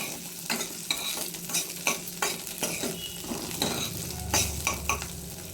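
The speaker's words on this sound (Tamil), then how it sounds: "கோல்டன் கலர் வர்ற வரைக்கும் அந்த ஸ்மால் ஆனியனை வந்து நல்லா வதக்கி விட்டுக்கோங்க" Small shallots sautéing in a pan until golden for vendakkai (okra) sambar, a steady close sizzle broken by regular scraping stirs of a spoon, with no voices.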